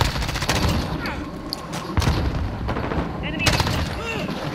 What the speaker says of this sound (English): he just shot me through rock with a fucking MP7